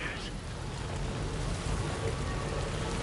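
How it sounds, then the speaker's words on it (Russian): Rain falls in the video game Death Stranding 2 as a dense, even hiss that stays steady and fairly loud for the whole few seconds, with no breaks or separate drops standing out. "Дождь вообще закончится с играми или нет?"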